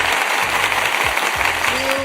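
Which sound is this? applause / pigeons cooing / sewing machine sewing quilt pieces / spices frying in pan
applause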